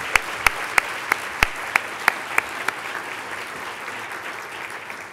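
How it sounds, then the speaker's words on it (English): Sparse hand claps ring out from a conference audience thanking sponsors, about a dozen distinct sharp claps over a quiet room background, thinning out toward the end. "Please give the Gowrie Group and all of our sponsors a big round of applause"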